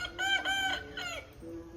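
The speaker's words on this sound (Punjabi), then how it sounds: "ਇੱਥੇ ਤੁਹਾਨੂੰ ਮੁਰਗੇ ਦੇਖਣਗੇ ਵੇਖਣ ਨੂੰ ਮਿਲਣਗੇ" A rooster crows clearly in a drawn-out, wavering call, followed by a softer trailing cluck, with nothing else around it.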